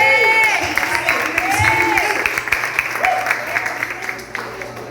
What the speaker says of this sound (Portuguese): Quem crê, diga amém, dê um aplauso.